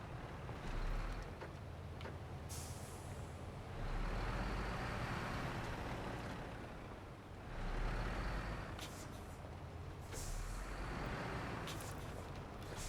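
A Pacific P12 truck turning around in SnowRunner, its engine droning low and steady with a few surges as it revs, plus brief hissing bursts like air brakes, no talk.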